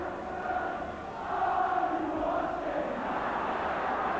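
Home crowd at a Watford v Liverpool football match, a steady broad roar of cheering and murmur that swells slightly midway and holds, distant and diffuse with no clear single voices.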